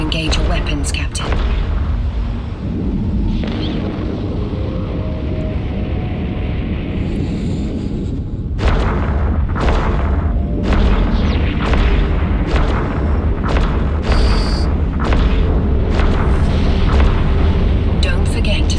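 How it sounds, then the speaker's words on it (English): Ship weapons fire and explosions boom in the space game Eve Online, a continuous low rumble followed by a rapid series of loud percussive blasts, with a voice talking over the action. "Now it's time to engage your weapons"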